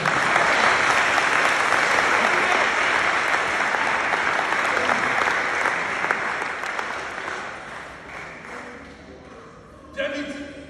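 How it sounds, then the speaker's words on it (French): A church congregation applauds loudly to acclaim the Lord, a dense, sustained clapping that gradually thins and fades over about ten seconds before a final brief swell. "Est-ce qu'on peut acclamer le Seigneur?"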